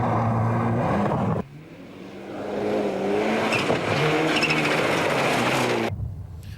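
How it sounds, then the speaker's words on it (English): A Mitsubishi Evo 6 rally car races through a special stage at Rally Southland 2001, engine revving hard and shifting gears, loud and close with a sharp cut as it passes. "the Racetech Shell-sponsored Mitsubishi Evo 6"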